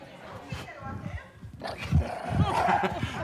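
A puppy barks on the Puppy Bowl set, a few short yips and gruff barks mixed with growly sounds, close by, while a person talks over them.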